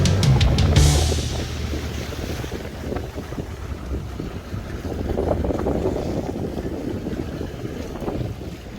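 A motorboat crosses choppy surf near the Sanibel Causeway bridge at Punta Rasa, with steady engine and hull rumble under heavy wind buffeting on the microphone; a louder gust opens the clip, and no one speaks.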